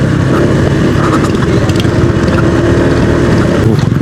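A motorcycle rumbles loudly and continuously close by on a village road in Malasari, a Bogor tourist village, its engine note steady throughout.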